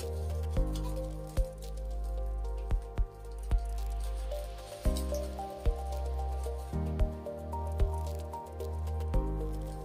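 An iron ball presses crucible paste into a mold greased with petroleum jelly, making soft, wet squishes and sharp taps at irregular intervals over steady background music.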